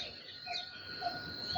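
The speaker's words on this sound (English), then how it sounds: "listen to the chirping of birds" Birds chirp faintly at dawn near a coconut tree where sparrows and black cranes nest, with brief high calls over a steady, quiet outdoor hiss.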